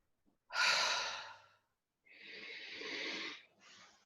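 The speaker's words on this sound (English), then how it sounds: "Take a deep breath. Take a breath. Breathe in and breathe out." Slow deep breaths, a long exhale followed by a second breath and a shorter third, airy and close with no talk.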